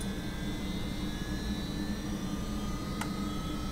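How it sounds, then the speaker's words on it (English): An aircraft engine in Flight Simulator 2004 whines steadily, with thin rising tones over a constant low hum and one brief click near the end; no one speaks. "that engine whine"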